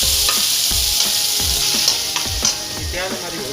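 White part of spring onion sizzles in hot oil in a pan for Singaporean rice, with steady frying hiss and a regular run of stirring scrapes and taps, close and alone.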